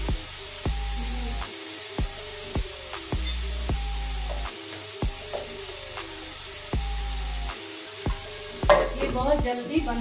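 Onions shallow frying in a pan, a steady soft sizzle with repeated spoon stirs and scrapes coming every second or so, close and moderately quiet.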